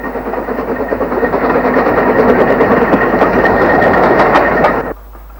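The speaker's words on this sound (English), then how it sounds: "A train for Denbigh arrives under the road bridge" A vintage train on the line to Denbigh arrives under a road bridge near Bodfari, its loud, steady rumble and rhythmic rail clatter filling the scene before cutting off abruptly near the end.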